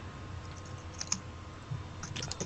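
Computer keyboard typing during a gaming stream, faint scattered key clicks over a steady background hum, with no speech.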